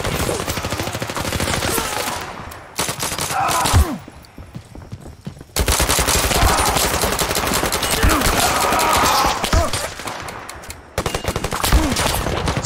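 Video game gunfire in Zero Caliber: rapid bursts of automatic weapon shots, loud and dense, with short breaks between volleys.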